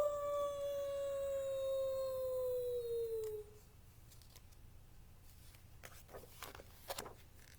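A single voice imitates a wolf howl, one long, loud, slowly falling howl lasting about three seconds, followed by faint rustling and small handling noises.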